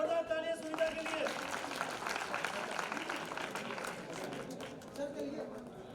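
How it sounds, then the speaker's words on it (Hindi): Audience applause at a community award ceremony, a crowd clapping steadily in a reverberant hall, moderately loud and gradually easing, mixed with a voice speaking over a microphone. "जोरदार तालियां सुनीता के लिए"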